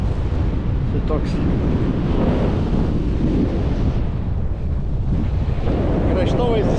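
Strong cold wind buffets the microphone on a mountain trail in Ireland, a loud continuous roar with gusts throughout.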